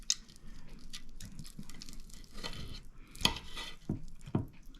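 A knife slicing into rested Chinese barbecue pork, quiet close cutting taps and crunchy scrapes against a board, with a few sharper clicks.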